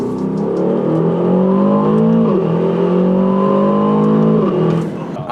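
A car engine revs hard and holds high rpm under acceleration, a loud, steady whining drone whose pitch climbs, dips briefly at two shifts, and climbs again, close and continuous throughout.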